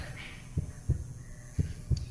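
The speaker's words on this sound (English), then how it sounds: "The heartbeat means I'm pretty sure the faster it beats, the closer it is." A heartbeat sound effect in the Primal Fear video game: two pairs of deep, thudding beats, each double thump close and steady over a low ambient hum.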